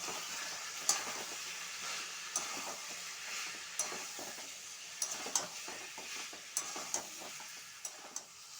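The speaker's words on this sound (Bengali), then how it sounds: "স্বাদ মতো চিনি দিয়ে ভালোভাবে মাংসটা কষে নেব।" Methi chicken browns in a pan with coriander powder and sugar, giving a quiet, low sizzle broken by occasional sharp ticks and scrapes from a stirring utensil.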